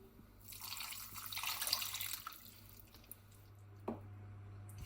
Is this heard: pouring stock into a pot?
yes